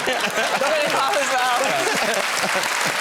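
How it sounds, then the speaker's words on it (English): Studio audience applause at a comedy talk show, a steady wash of clapping with some chuckles and talk mixed in, close and fairly loud throughout. "Why are y'all clapping?"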